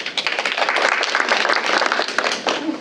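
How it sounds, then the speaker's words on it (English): Audience applause from a crowd at a school information evening, a dense burst of clapping close by that runs for a few seconds and then tapers slightly. "Thanks for the applause."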